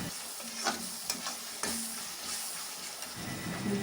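Onion and masala for Chettinad chicken gravy sizzle steadily in a pan while a spoon stirs and scrapes at intervals, a close, continuous frying hiss with no talking.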